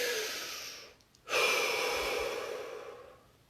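A single deep breath close to the listener, a long breathy exhale fading out, a short pause, then a strong drawn-in inhale that slowly tapers away.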